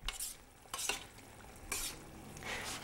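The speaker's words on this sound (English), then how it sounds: "We'll give that a stir." A spoon scrapes through tomato sauce with fresh basil in a pan, in three or four short stirring bursts over a soft sizzle.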